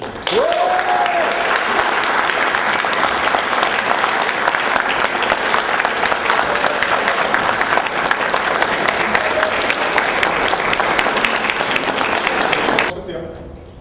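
A hall audience at the BEOKON 2006 Horror Show in Dom Omladine greets Miroslav Lakobrija with loud, sustained clapping for about thirteen seconds. A brief whistle rises at the start, and the clapping stops abruptly near the end.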